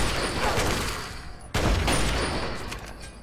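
A turret in Fallout 3 fires a loud, sustained burst of rapid gunfire, with a heavy impact or boom midway before the shooting continues.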